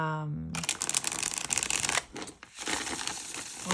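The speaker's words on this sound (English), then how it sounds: "I'm just going to shuffle it one more time." Tarot cards shuffled by hand in a rapid, papery riffling flurry close to the mic, continuing nearly four seconds with a brief lull midway.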